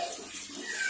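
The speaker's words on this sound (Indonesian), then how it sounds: "kita tuangkan ke ember ya" Homemade natural plant growth liquid pours into a bucket half filled with water, a brief continuous splashing gush, close and moderately loud.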